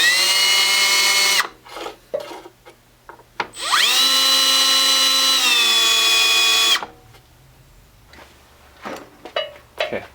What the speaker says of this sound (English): I'm just going to countersink these.